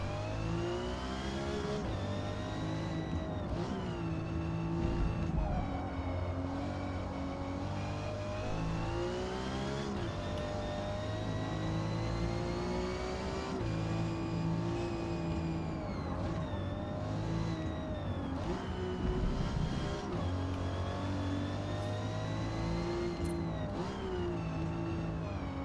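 A car engine in the racing game Forza Motorsport revs and pulls hard through the gears, with a steady loud drone rising in pitch over and over across about twenty-five seconds, and no talking.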